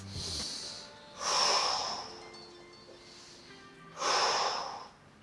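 Deep breathing during a mobility stretch: two long, close, audible breaths, each a smooth airy swell lasting about a second, separated by quieter pauses.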